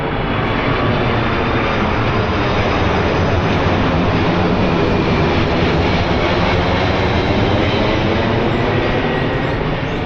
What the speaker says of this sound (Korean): 또 비행기 온다.